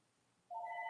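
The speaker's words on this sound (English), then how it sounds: "Oh, phone's ringing." A phone rings in a quiet room, a steady dual-tone electronic ring that starts abruptly halfway through and holds loud and clear to the end.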